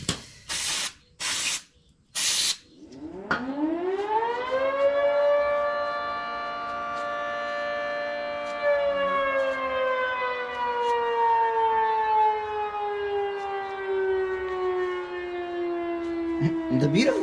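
Brake cleaner sprays onto control arm parts from a 1994 Acura Integra in three short, sharp hissing bursts close by, followed by a long, sliding whine that slowly falls in pitch.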